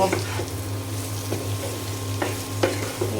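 Carrots and potatoes frying in a pan are stirred, with a steady sizzle over a low hum and a few sharp utensil scrapes standing out; no one speaks.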